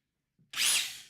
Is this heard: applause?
no